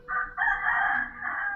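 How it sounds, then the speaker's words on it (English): A rooster crows outside a window in the Philippines, one loud, close, sustained cock-a-doodle-doo with a brief break near the start, heard alone. "I should also warn you, roosters."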